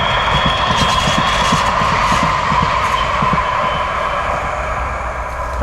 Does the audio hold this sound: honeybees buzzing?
no